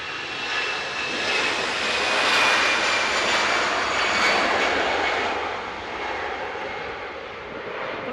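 Airliner jet engines on a short flight departing to Belfast: a steady broadband roar with a thin high whine, swelling slightly midway and then easing, heard alone without talk.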